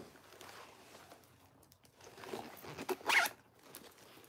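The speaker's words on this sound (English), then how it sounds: "instead of a snap, it has a zipper that has frills." A frilled zipper on a vintage clutch bag being opened, a short scratchy burst near the end after quiet handling rustles, close and fairly faint.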